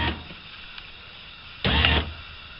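A Land Rover Freelander 1 power window regulator motor runs in a short whirring burst of under half a second, loud and close, after a stretch of quiet.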